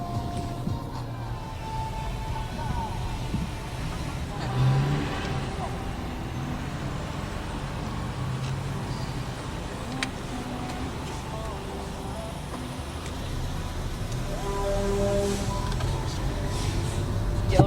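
A car driving along a toll road, with steady road and engine noise and passing traffic throughout, while people talk inside the vehicle.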